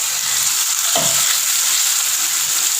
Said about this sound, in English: So my oil is now moderately hot. So I am adding now the onions.